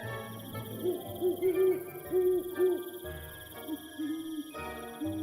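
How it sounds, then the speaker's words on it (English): Owls hoot repeatedly in the Hogwarts Legacy owlery, a series of soft, clear hoots in a steady pattern over a low ambient game hum with faint insect-like chirring, with no voices. "Owls. We know what they look like."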